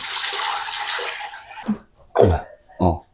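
Liquid poured in a steady splashing stream while ribs are prepared for smoking, then stopping, followed by a few short knocks and bumps of a container nearby.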